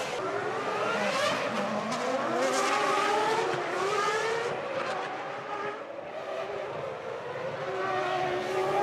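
Benetton Formula One race car at the 2001 Monaco Grand Prix, a loud high-pitched engine scream rising and falling through gear shifts as the car passes close, with crowd and track noise beneath.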